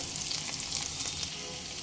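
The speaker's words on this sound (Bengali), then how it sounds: "পেঁয়াজ একটু ভাজা ভাজা হয়ে এলেই পেঁয়াজের মধ্যেই দিয়ে দেব তিনটে কুচিয়ে নেওয়া কাঁচা লঙ্কা" Continuous bright sizzling of onions and chopped green chillies frying in hot oil, steady and close, with no talking.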